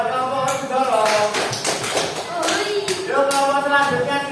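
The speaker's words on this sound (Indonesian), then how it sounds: "bagusnya tepuk tangan buat kelompok Werkudara" Applause for a student group in a classroom presentation, a steady burst of many hands clapping that swells and continues for several seconds, with voices mixed in beneath it.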